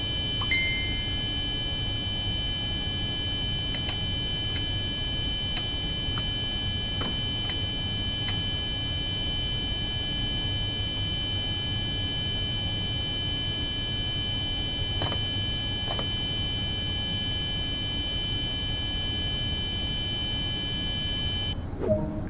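A train cab alarm in Train Sim World 2 on the Köln high-speed line sounds as a steady, sustained electronic tone, with faint ticking and occasional clicks throughout.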